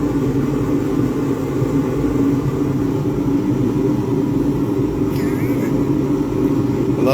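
Gas blacksmith forge just fired up outdoors, a loud, steady roaring rumble like a jet engine that runs unbroken and close, with a faint brief sweep of a higher tone partway through.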